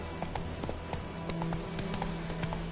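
Horse galloping in The Witcher 3, a steady rhythmic clip-clop of hooves running at moderate volume throughout.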